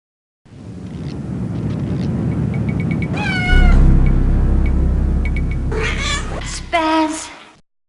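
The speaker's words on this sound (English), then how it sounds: "You're a nice kitty." A cat meows several times in the horror video game Phantasmagoria, with drawn-out, wavering cries, close and loud, over a low rumbling background.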